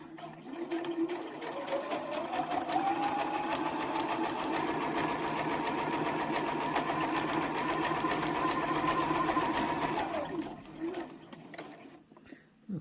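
Sewing machine running a straight stitch at 3.4 stitch length while making a mini boxed pouch, a steady, fast mechanical whirr with a rising motor pitch, close and continuous for about ten seconds before slowing and stopping.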